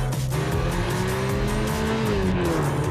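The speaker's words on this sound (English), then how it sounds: "The Volkswagen Tiguan. The only compact SUV with a turbocharged engine standard." A turbocharged Volkswagen Tiguan compact SUV drives hard in a TV ad, with loud engine drone and a rising, then falling, tire-squeal tone over a constant road roar.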